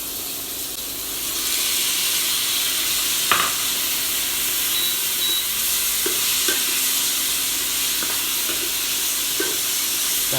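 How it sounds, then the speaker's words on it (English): Tomatoes and onions sauté in a pan with a steady sizzle and hiss, broken by a few light scrapes and clicks as they are stirred, close by and with no talking. "So I think tomatoes and onions are ready to saute."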